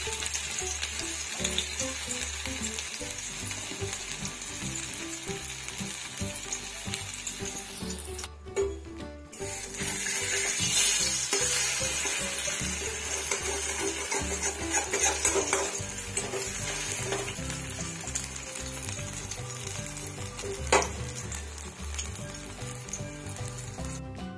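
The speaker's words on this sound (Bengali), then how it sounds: "এবার আমি পোস্তর বড়াটা করে নেব।" Poppy seed fritters (posto bora) frying in a pan, a loud steady sizzle throughout with occasional scrapes and clinks of a utensil against the pan.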